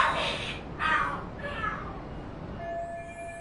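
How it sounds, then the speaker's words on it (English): Cats fight and scream in the video game Lost Judgment, giving out a few drawn-out, wavering yowls one after another. The cries fade into a thin lingering tone, fairly faint and without speech. "Are there cats fighting?"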